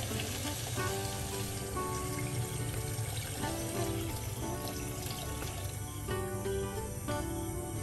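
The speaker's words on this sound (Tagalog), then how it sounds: "So lalagyan na natin siya ngayon ng sabaw, ng tubig." Water pours into a pot for broth in a steady, close splashing rush, with faint sizzling and hissing and a low background hum throughout.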